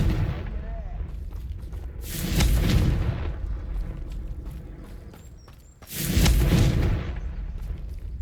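Two heavy explosive blasts from a Confringo spell in Hogwarts Legacy, each a deep booming burst with rumbling decay, the second a few seconds after the first, loud and close over game background noise.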